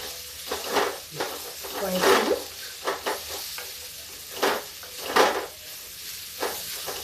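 Fresh okra tossed with gram flour and spices stir-fries over a high flame, with repeated close scraping strokes of a spatula against the pan at an irregular rhythm above a steady sizzle.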